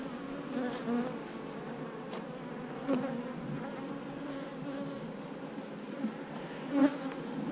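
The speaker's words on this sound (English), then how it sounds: "there's a lot of bees on this frame" Honey bees crowd a hive frame and buzz steadily at close range, with a few louder passes as individual bees fly near. Nobody speaks.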